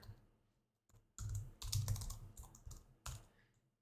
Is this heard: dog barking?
no